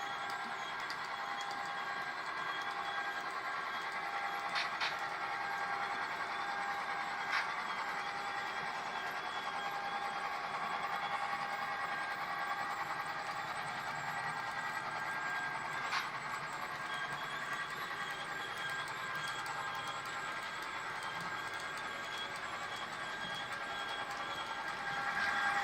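HO scale model trains run on a home layout after climbing a helix to a mountain-notch scene, a faint steady mechanical whir with light clicks, no talking.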